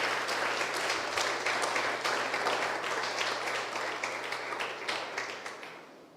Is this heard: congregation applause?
yes